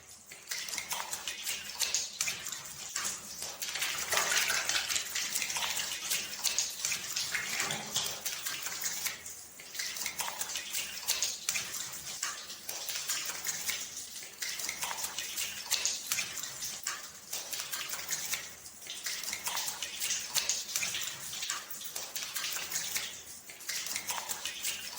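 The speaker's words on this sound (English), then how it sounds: "Wash the hands up to the wrists 3 times and then wash any dirt from the private parts" Animated sound effect of water running from a tap while hands are washed: a steady, fairly loud rush and splash that holds throughout without pause, with no talking.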